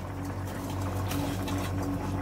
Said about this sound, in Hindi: पानी में देखें बॉयल आ गया